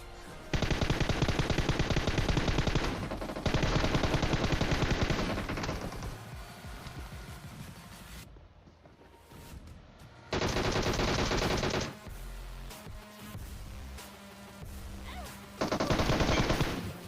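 Gunfire in a mobile battle royale game played on an iPad Mini 5 comes as loud bursts of rapid automatic shots, with several separate volleys and quieter gaps of game sound between them.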